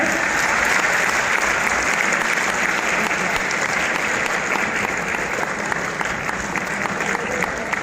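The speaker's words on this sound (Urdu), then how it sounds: "زوردار تالیاں." A university audience in Bahawalpur gives a standing welcome to a guest, with loud, continuous applause and a low crowd murmur that holds steady throughout.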